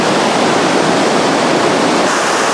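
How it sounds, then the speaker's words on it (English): A waterfall crashes steadily onto granite at the base of the falls, a loud, dense, unbroken roar of pounding water close by with no voices. "just look at that water right there. It's like exploding into the air, coming back down."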